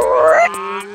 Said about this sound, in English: I hear a spotted humming frog right over... there!